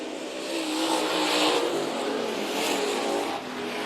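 Western Pro Stock race cars running hammer down in a heat race at Bakersfield Speedway: a loud, continuous engine roar that surges twice as cars sweep past, with no voices over it.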